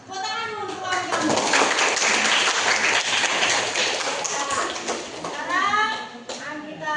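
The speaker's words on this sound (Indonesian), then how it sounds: "Ya, tepuk tangan untuk kawan kamu." Classroom applause for a student's anti-bullying poster: children clap steadily for several seconds, with kids' voices talking and calling out over and around the clapping.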